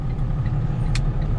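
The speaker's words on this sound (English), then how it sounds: "I'm actually in 443 here, the old flatbed rollback that I used to drive." Old flatbed rollback tow truck driving, a steady low engine drone with road rumble heard from inside the cab, alone and fairly loud.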